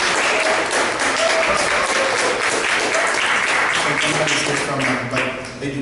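A large audience at a Cultural Arts Center event applauds in a loud, sustained wash of clapping that tapers slightly at the end.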